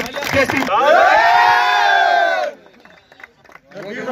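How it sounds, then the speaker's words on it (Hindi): A crowd at the kickoff of a CRPF-organized football tournament in Shopian, Kashmir, lets out a loud, sustained collective shout and cheer, drops to quieter murmurs, then starts shouting again. "दोस्तों जोरदार तालियां"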